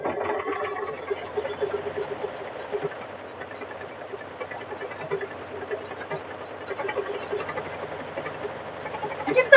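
A sewing machine runs steadily while stitching a quilt, a close continuous whirring hum with small clicks and faint variations over nearly ten seconds.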